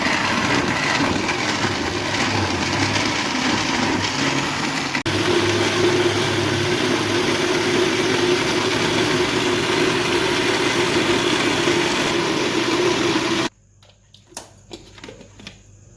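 A kitchen blender grinds masala with potatoes and about half a glass of water in a loud, steady whirring drone lasting well over ten seconds, then it abruptly cuts off, leaving faint clicks and handling.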